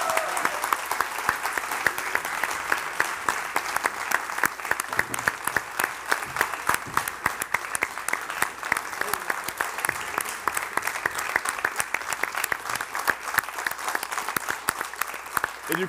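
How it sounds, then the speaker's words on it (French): An audience at a gladiator combat show claps steadily and densely throughout, a sustained round of applause with a few voices faintly underneath. "sous les applaudissements"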